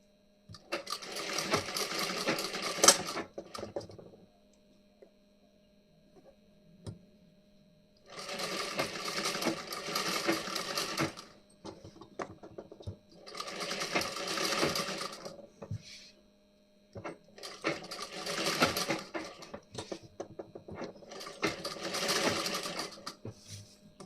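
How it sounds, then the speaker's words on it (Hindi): A sewing machine stitches a design on the back neckline of a blouse. It runs in four or five bursts of a few seconds each, with quiet pauses between them, and sounds close and clear with no talking. "अब इधर की साइड में इसी तरीके से हमें सिलाई लगानी है"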